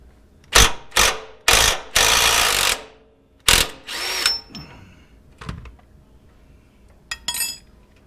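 Bursts of ratcheting and impact-style tool noise come from work on bolts at the front of a 3rd-gen Toyota 4Runner, with about six loud, separate bursts and quieter mechanical clicks in the gaps.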